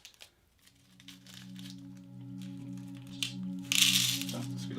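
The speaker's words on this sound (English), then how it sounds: "Cut open this bag." A plastic bag of PC screws is cut open, giving faint crinkles and snips that end in a louder close tear-and-rustle burst, over a low steady electrical hum.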